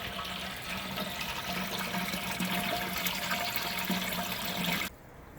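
Cold water rushes steadily into a RoboBrew brewing kettle, a loud, hissing, splashing fill that continues evenly before cutting off abruptly near the end.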